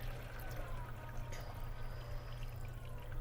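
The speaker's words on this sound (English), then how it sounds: "I'm gonna put this here, and I'm gonna pour this in." Tie-dye liquid pours through a funnel in a continuous, steady splashing trickle that stays close and fairly even throughout.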